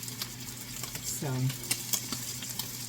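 Chicken and sausage sauteing in a wok give a steady close sizzle, with occasional scrapes and taps of a utensil stirring, plus a brief low tonal sound partway through.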